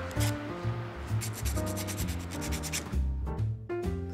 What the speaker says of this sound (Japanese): セルスイッチの表面が酸化して導通がないっていう可能性もあるので、ここ接点を磨いてみます。